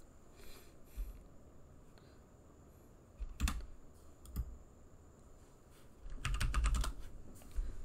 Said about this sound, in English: we can type in exit